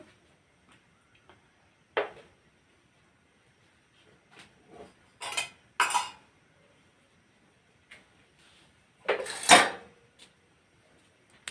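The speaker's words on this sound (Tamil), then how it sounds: "கேஸ் ஆன் பண்ணிக்கலாம் கல்லை வச்சுட்டு" A griddle stone is set on a gas stove for chapati, giving scattered clinks and scraping knocks of stone and metal in an otherwise quiet kitchen, with a louder clatter near the end.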